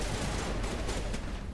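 Loud, dense gunfire in the video game Mass Effect 1, a sustained roar of rapid shots with a few sharper cracks standing out, close and continuous with no talking.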